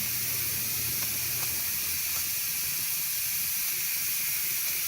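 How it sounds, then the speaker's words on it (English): Continuous loud steam hiss from a pressure canner canning meatloaf and chicken, steady and unbroken throughout, with a few faint clicks underneath and no talking. "You can hear the steam."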